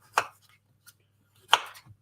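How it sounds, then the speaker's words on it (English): Two crisp knife chops on a cutting board as fruit is diced for oat muffins, spaced about a second apart with a faint tap between, close and clear with no talk. "I'll just keep chopping things up till it's full."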